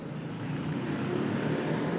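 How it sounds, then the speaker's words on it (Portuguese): Motorcycle engine droning steadily as it passes outside, moderately close and fairly loud for two seconds, a low buzzing hum with no voices. "deixa passar a moto"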